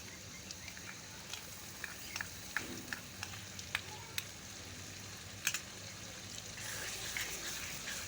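Yogurt is stirred into sizzling masala for Lahori cholay: a faint, steady sizzle runs underneath while a spoon scrapes and taps the pan in scattered clicks.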